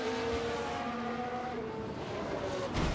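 Race cars roar through a crash replay in the F1 Manager 2022 racing game at the Singapore circuit. A steady loud engine drone holds throughout, with a brief surge and scrape near the end and no clear speech.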